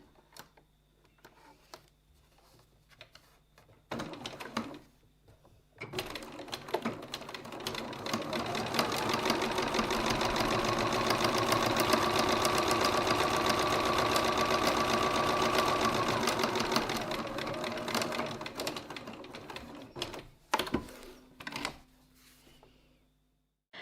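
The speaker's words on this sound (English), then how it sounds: "now I'm going to top stitch 6mm or 1/4 of an inch from the edge" A sewing machine runs a long top-stitching pass on a leather wallet flap, a steady rapid close whirring that ramps up, holds for about ten seconds and winds down, framed by scattered handling clicks and taps before and after.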